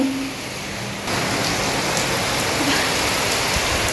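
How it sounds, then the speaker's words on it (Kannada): Heavy rain pours down in Mangalore, a dense, loud, continuous hiss of drops beating on surfaces close by, with no voices. "ಮಂಗಳೂರಲ್ಲಿ ಮಳೆ ಜೋರ್ ಮಳೆ"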